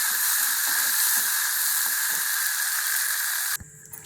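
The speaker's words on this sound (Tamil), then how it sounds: "இந்த மாதிரி நல்லா வறுக்கணுங்க நல்லா இன்னும் செவக்க வறுக்கணும்" Turkey berries (sundakkai) frying in a pan, a steady close sizzle with faint stirring taps, ending abruptly as the heat or stirring changes.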